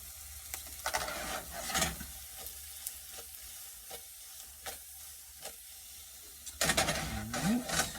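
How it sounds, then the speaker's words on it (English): Fried rice sautés in a pan with a soft continuous sizzle, punctuated by scattered clicks and scrapes of a utensil stirring, quiet and close, with a louder burst of stirring near the end. "Gonna let that saute for a little bit."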